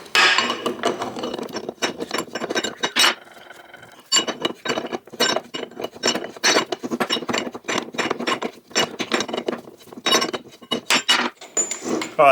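Metal clinks and ratcheting clicks from a wrench undoing a left-hand thread nut on a locked 1979-1984 Harley-Davidson four-speed rotary top gearbox, in close, irregular bursts with a brief pause midway.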